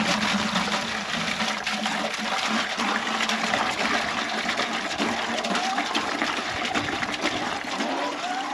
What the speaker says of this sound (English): let's throw a little water in it